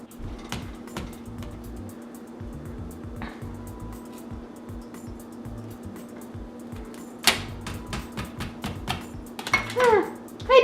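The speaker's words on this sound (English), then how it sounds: "Now I'm going to cut our sausage." A knife cutting sausage on a hard surface, a run of quick tapping chops and scrapes against a low steady hum, close by, ending in a few louder knocks with brief rustling.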